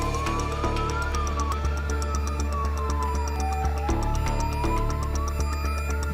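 An ambulance drives toward Pavlodar airport with its siren wailing steadily, a rising and falling tone over a constant low engine rumble, heard from close by.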